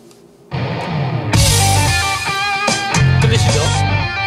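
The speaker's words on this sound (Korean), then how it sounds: "락 버전이니까 기타로 이렇게 막 후렸습니다" A distorted electric guitar pounds out the main riff of a rock arrangement, loud and dense over heavy low-end backing, entering abruptly after a quiet start and surging in choppy bursts.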